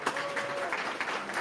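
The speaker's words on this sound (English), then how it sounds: "give a warm round of applause to Rampa" A moderate audience at a startup demo day in Berlin claps for the next team, steady scattered applause at medium distance with a faint tonal hum and some background voices.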